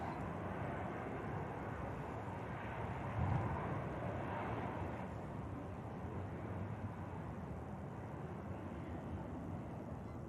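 A Brussels Airlines Airbus A319 departs from runway 05 left at Manchester Airport, heard as a faint, distant, steady jet roar with a broad, airy rumble that swells slightly midway.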